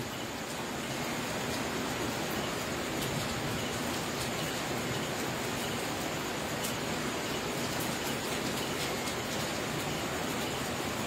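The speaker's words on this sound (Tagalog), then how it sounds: "Umuulan na naman." Steady, dense hiss of rain falling continuously, even and unbroken throughout with no voices.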